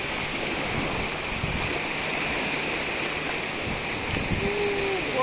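Big waves wash around a toy truck in the surf, a steady, unbroken rush of water throughout with no talking.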